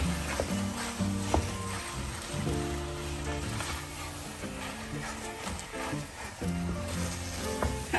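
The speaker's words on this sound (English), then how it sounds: "One nice stir, and in goes the ground beef." Ground beef hits a hot frying pan with yogurt and oil, giving a dense, crackling sizzle with scattered pops and faint stirring clatter, steady and close throughout.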